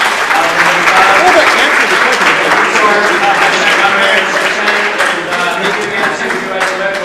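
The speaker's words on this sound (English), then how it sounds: "Now we can applaud them all." A conference audience applauds the panelists at the close of a session, with loud, dense, sustained clapping filling the room and a few voices mixed in.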